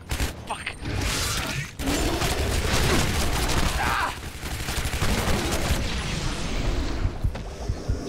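Gunfire from the video game Shadow Warrior (2013) comes as dense, sustained bursts of shots and mechanical clatter across most of the stretch, loud and close, with brief gaps.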